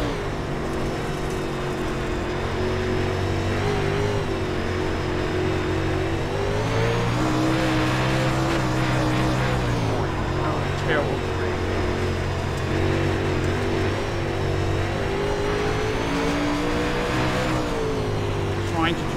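A UMP modified race car on the Eldora dirt oval in iRacing revs and surges through corners, its engine pitch rising and falling with brief tire scrub, while someone talks over it.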